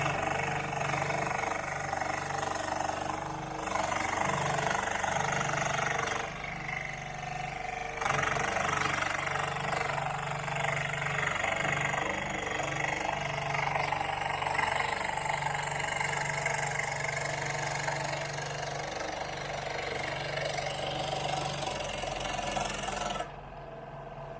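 A Porter Cable scroll saw runs steadily and fairly loud throughout, its motor pitch and blade chatter shifting as the speed is changed, with brief dips where it slows.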